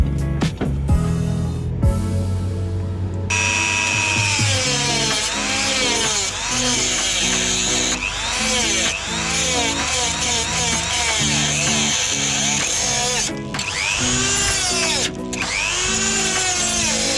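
Power tool cutting through a welded fender on a built 5.0 Mustang, a loud continuous whining grind with rising and falling pitch sweeps, close and uninterrupted for the whole stretch.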